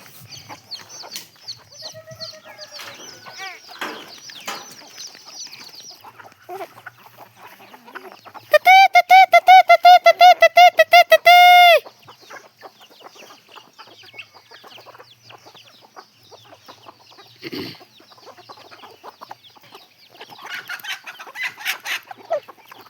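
Several chickens cluck and chirp around a home yard, and a loud rooster crows in the middle, a long harmonic call that stands out well above the scattered clucking. Softer clucks and bird calls continue before and after.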